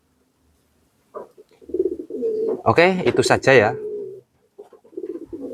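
A pigeon coos in a few soft, low, rounded calls close by, mixed in with a person talking.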